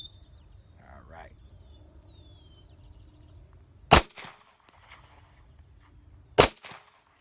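Two sharp, loud pistol shots from a Walther CCP firing Federal Premium rounds, spaced about two and a half seconds apart, each with a brief ringing tail over low outdoor background noise.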